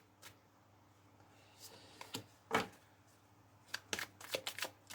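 Tarot cards are shuffled and drawn on a table, giving faint, scattered papery snaps and flicks in an otherwise quiet room. A quick cluster of riffling clicks comes toward the end.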